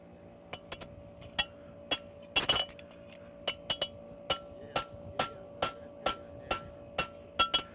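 A hammer strikes a steel horseshoe on an anvil during forging, giving a long series of sharp, ringing clinks at an irregular rhythm with a brief flurry of quick blows early on, close and clear over a low room hum.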